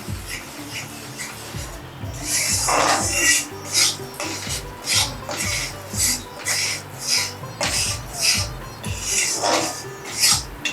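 A spoon scraping and stirring thick ragi sheera, a finger millet pudding, in a pan, a steady rasping rub repeated in rhythmic strokes, close and fairly loud with no talk.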